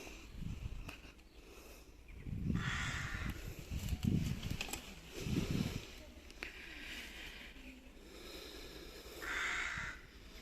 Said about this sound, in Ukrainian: Як ворони каркають.